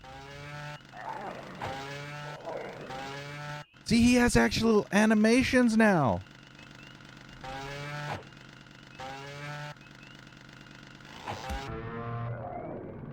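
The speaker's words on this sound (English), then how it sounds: "Now it sounds like a cow." A chainsaw in Splatterhouse 3D gives off a rough, droning roar with warbling, moo-like pitch swings, revving in bursts that peak loudly midway, with someone talking over parts of it.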